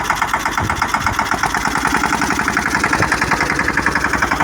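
A new Steeltrac tractor runs steadily while being driven through a cotton field, its mid-pitched engine loud and close with a rapid, even chugging pulse and no voices over it.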